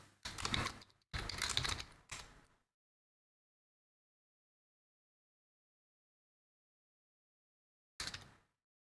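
A few quick clusters of computer mouse clicks while working in Roll20, close and crisp, followed by a long silence and one last short burst of clicks.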